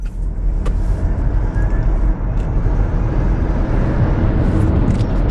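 A Ford Mustang Mach-E electric car accelerates hard from a slow roll to about 60 mph, heard from inside the cabin as a loud, steady rush of road and wind noise with a low rumble.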